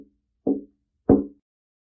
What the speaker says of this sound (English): I woke up to the knock at the door.